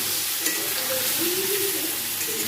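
Food frying in oil in a pan with salt and turmeric, stirred steadily: a continuous close sizzle with light scraping of the spoon, alone without talk.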